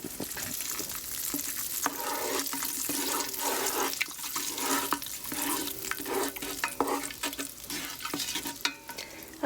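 A roux stirred in a very big pot, with continuous bubbling sizzle and repeated scraping strokes of a spoon across the bottom, close and fairly loud throughout.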